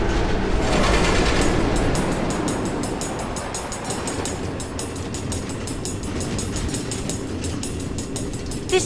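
A minecart train rolls along automated rails through the Nether in the Minecraft: Story Mode game, loud rumbling at first, then a steady rapid clatter of wheels over track joints, with no voices.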